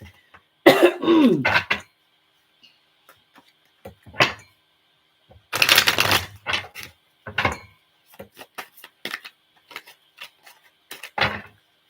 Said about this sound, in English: I'm sorry, y'all, if I'm coughing.